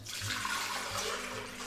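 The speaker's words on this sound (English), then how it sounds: "To your blender, you wanna add your fresh water." Fresh water poured steadily into a blender for cucumber agua fresca, a continuous gushing splash with no voices heard.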